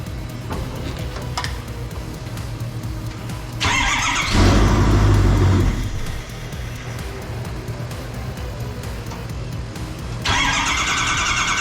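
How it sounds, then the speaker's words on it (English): Ford F350 Super Duty diesel with a newly swapped fuel system cranking over and catching, a loud rising rumble in the middle over a low steady drone, with louder bursts near the start and end. "we're gonna try cranking it over once and see what happens"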